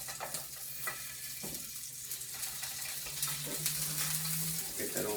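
Cubes of butter melt and sizzle in a hot pan with a big chunk of steak, a steady hiss and crackle that builds and grows denser over several seconds, with a faint tonal hum underneath.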